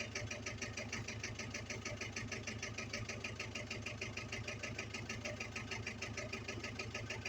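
A vintage WainRoy backhoe's engine runs steadily with a fast, even mechanical chatter and rattling pulse, unbroken and moderately distant throughout.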